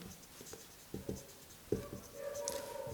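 Marker writing on a board during a chemistry lesson, a few short scratchy strokes and taps spread across a quiet room, close and fairly faint, with no talk.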